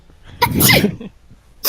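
A single sharp sneeze, close and loud, followed by a short quiet breath and the start of another noise.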